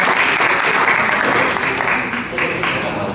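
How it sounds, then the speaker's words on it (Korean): Steady, loud audience applause in a youth debate contest hall, a dense wash of clapping hands honoring two debaters, sustained evenly for several seconds with no talk over it. "두 분께 박수 한번 먼저 쳐드리고요"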